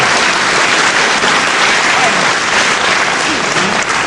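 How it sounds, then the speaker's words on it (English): A packed crowd at a 1977 UK wrestling bout in Westcliff-on-Sea applauds continuously, a dense, loud wash of clapping that holds steady throughout the short stretch. "And again, deserved applause from the packed crowd here at Westcliff-on-Sea."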